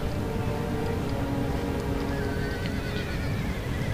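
Cavalry horses in the video game Empire: Total War neigh and hooves clatter beneath a dense, continuous roar of battlefield noise, with a mixed Russian and Ottoman force on the field.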